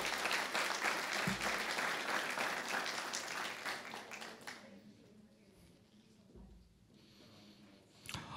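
Applause fills a school board meeting, loud and dense at first, then thinning and fading to scattered claps before a brief final burst.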